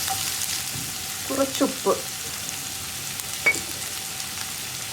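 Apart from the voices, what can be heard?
onions sautéing in a pan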